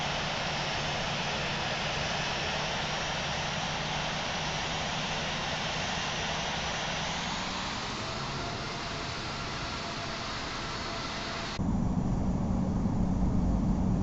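Airliner jet engines whining at low thrust while taxiing to the runway in a flight simulator, a steady broadband hum that shifts tone near the end as the engine sound swells.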